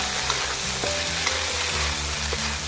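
Chili butter prawns fry in a pan with a steady, close sizzle and crackle, a continuous bubbling hiss carrying on throughout without any talking.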